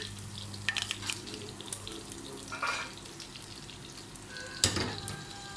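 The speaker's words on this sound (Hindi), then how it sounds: "साबुत लाल मिर्च और ज़ीरे, इसका बघार दे रही हूँ इसके ऊपर।" Oil crackles and sizzles steadily as whole dried red chillies, cumin seeds and garlic hit the hot pan for tempering, with a sharper burst of spitting near the end; no one speaks.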